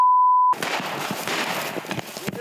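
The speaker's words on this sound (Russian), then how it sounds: "Стреляют и взрываются." Gunfire during an international military tactical game on the Alabino training range: a short steady beep tone gives way to a dense, noisy barrage of cracks and bursts that continues without a break.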